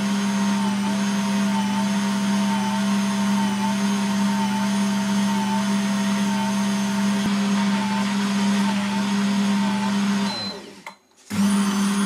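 A Silvercrest SPM 220 A2 pasta machine kneads dough with a steady, loud motor hum and whine, running continuously before abruptly cutting out near the end, then briefly resuming.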